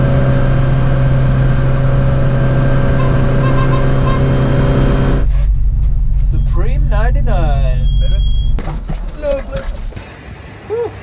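Steady, loud drone of a car interior while driving on a long trip, with engine and road hum, then quieter cabin rumble as a person talks over it.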